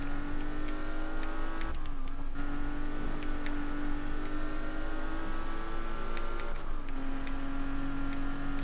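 Ken Block's Ford Mustang driving in the video game Need For Speed 2015: a steady, loud engine drone dips twice as gears shift, with faint regular ticking underneath and no voices.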